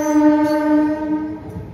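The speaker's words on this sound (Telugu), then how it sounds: "సో ప్లాట్ఫామ్ నెంబర్ 1 నుండి మన ట్రైన్ అయితే స్టార్ట్ అయిపోయింది" A MEMU special express on the Nidadavolu–Narasapur route pulls away from platform 1, sounding a loud, steady horn blast that holds for about a second and a half before fading, with low rolling rumble of the train underneath and no voices.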